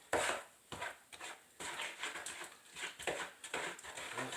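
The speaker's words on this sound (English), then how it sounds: "Take a big spoon, start mixing this together." Wooden or big spoon stirring homemade bread dough by hand in a bowl, giving a series of close, irregular scraping and knocking strokes with soft wet thuds, steady throughout.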